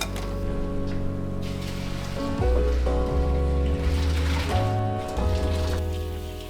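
Cooked Korean glass noodles are drained, with their hot cooking water pouring out into a sink. A loud, continuous gushing splash rushes steadily throughout, with a slight shift in tone partway through.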